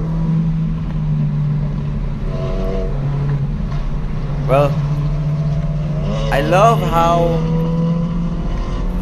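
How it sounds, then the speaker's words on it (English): A Porsche sports car engine drones steadily on a race track, then climbs in pitch as it accelerates, with someone speaking briefly over the engine noise. "love the engine sound of that Porsche"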